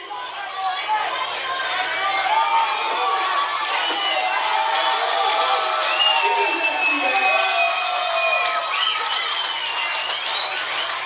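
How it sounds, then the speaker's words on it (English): A fight-night crowd cheers and chants at a boxing event, a sustained, dense roar of many voices that swells slightly and stays loud throughout, with scattered shouts and talk mixed in. "You can see everybody chanting, the crowd got into it."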